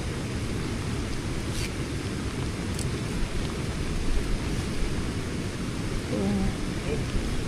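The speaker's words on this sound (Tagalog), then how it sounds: "Malakas na yung ulan." Heavy rain pours in a steady, dense hiss outdoors during a sugar beet delivery, with low rumbling underneath that may be distant thunder and a faint voice briefly near the end.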